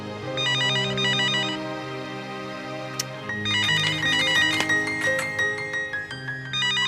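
A cheerful electronic ringtone rings close by, pausing briefly after a click before resuming with bright, trilling tones.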